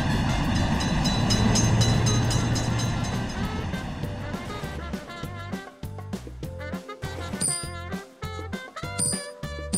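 Train rolling through a railroad crossing in a crossing simulator video game, a loud dense rumble with clattering that thins into a rhythmic run of sharp clicks and clacks as it passes.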